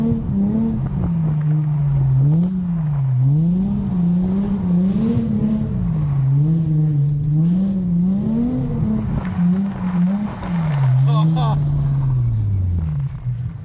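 Ford Mustang drift car on a wet, muddy track, engine revving and rising and falling in a steady wavering rhythm close by, with occasional tire noise, while people talk over it.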